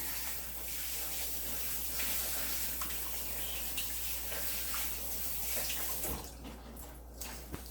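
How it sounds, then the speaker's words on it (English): A spoon gets rinsed under a running tap at a kitchen sink while soup is made: a steady close rush of water runs throughout, then thins out near the end. "Let me rinse this spoon and do another."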